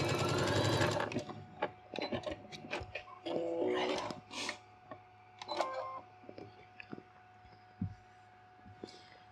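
Domestic sewing machine stitching a hem on fabric, a fast rhythmic run of needle strokes at the start, then quieter clicks, fabric handling and short mechanical sounds nearby, with no talk.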